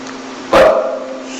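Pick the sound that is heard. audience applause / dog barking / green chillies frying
dog barking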